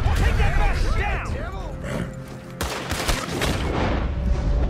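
Gunfire in a Red Dead Redemption II shootout at an O'Driscoll camp, with loud repeated shots and booms mixed with excited talk and game sounds throughout.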